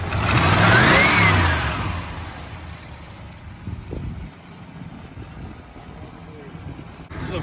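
Old Mopar barn find car engine revving hard and loud up close, then easing back to a rough idle while voices speak over the running motor.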